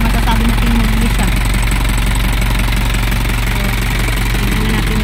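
An Isuzu Elf truck with a 4HF1 diesel engine idles loudly and steadily up close, with a constant low rumble and a clattering knock. It runs alone with no voice over it.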